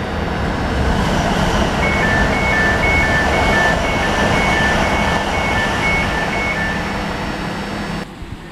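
A Class 345 train bound for London Paddington at West Ealing station on the Great Western Main Line makes a loud, steady rumble, with a regular two-tone beeping through the middle. The sound drops away abruptly at the end.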